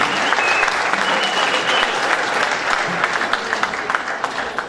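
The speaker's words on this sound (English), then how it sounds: "I think we have to give them a great round of applause for their vision," A crowd at an international fishing tournament evening event in the Cayman Islands gives a warm, sustained round of applause, loud and close, tapering slightly toward the end.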